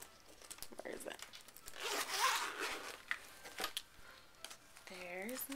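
A zipper is drawn open along a purple Cuttlebug carrying bag in several quick rasping runs, close and fairly quiet, with a brief voice near the end.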